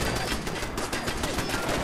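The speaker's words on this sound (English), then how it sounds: "I think those red lights are Preston shooting at the turret" Turret gunfire in the Fallout 4 video game: a dense, loud stream of rapid automatic shots rattling without pause for the whole moment, with no talking.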